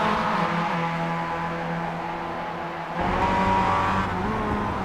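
A Mazda race car in iRacing's Advanced Mazda Cup at Donington Park loses grip, its steady engine drone shifting as the tires scrub and skid, with other car engines humming close by.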